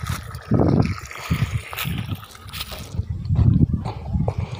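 Irrigation water gushing and gurgling across a field of fodder crop, a close, uneven splashing flow with surges and dips and no one talking.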